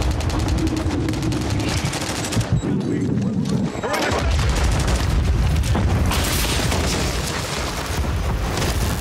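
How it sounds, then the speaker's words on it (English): Dense gunfire and booming explosions in Call of Duty Modern Warfare 2 multiplayer, continuous loud rapid shots and blasts throughout, with someone talking over the din. "who's shooting?"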